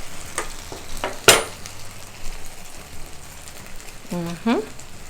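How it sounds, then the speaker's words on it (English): Sausage coated in barbecue sauce and brown sugar is stirred in a pan, with soft bubbling, a sharp clink of the utensil and scraping strokes, plus brief voice sounds near the end. "Give it a good mix. Combine everything together."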